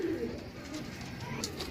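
Teddy-breed pigeons cooing nearby, soft low repeated coos over a continuous background murmur, with faint voices in the mix.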